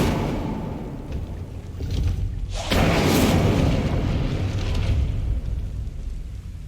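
Incendio fire spell cast in Hogwarts Legacy, a sudden whooshing burst of flame that swells into a loud, sustained roaring rumble and slowly fades.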